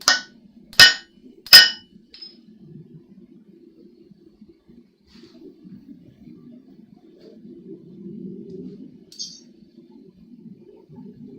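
Three loud, sharp hammer strikes ring out in quick succession as the tip of a san mai deba knife is forged and rounded, then give way to a quiet stretch with faint low rumbling and a single light clink.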